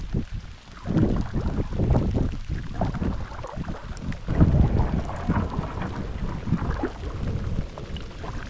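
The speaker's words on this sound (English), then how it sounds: "Got some huge lightning go across the sky." Heavy thunder rolls and rumbles continuously during a storm on a solo wilderness canoe trip in Woodland Caribou Provincial Park, loud and close, with rain and wind mixed in and no voices.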